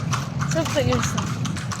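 A horse pulling a kalesa through Vigan clip-clops in a steady, close rhythm of hoof strikes, while people chat over the hoofbeats.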